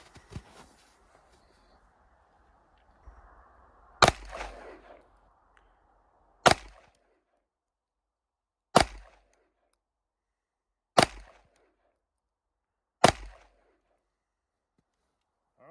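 Five sharp pistol shots from a CZ P07 ring out one by one at roughly two-second intervals, each a loud crack with a short ringing tail, preceded by faint handling noises on an otherwise quiet range.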